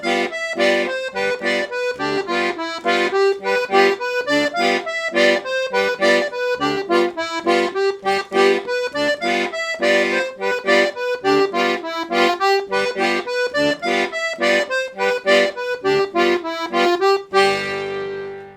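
Piano accordion playing a Brazilian forró melody, a bright, bouncy line of quick repeated notes in a steady syncopated rhythm, close and alone, ending on a held chord.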